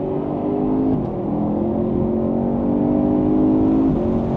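A Camaro SS 1LE accelerating hard on a race track during a club track day, its engine droning loud and steady from inside the car, pitch climbing slowly with a brief dip as a gear changes.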